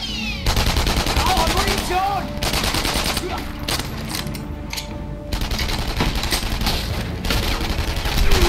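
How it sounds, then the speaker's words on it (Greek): Rapid automatic gunfire and bursts of bullets from the World War II shooter game Enemy Front, loud and nearly continuous with short pauses, mixed with game effects and some background voice. "Σφαίρες, σφαίρες."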